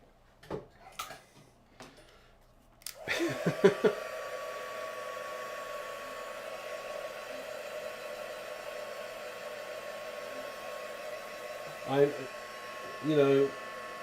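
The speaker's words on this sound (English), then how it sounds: "So I'm just clear embossing this now." A heat tool for clear embossing on a stamped craft card blows a steady, airy hum for about ten seconds after a few brief taps and handling noises, followed by short rustles near the end.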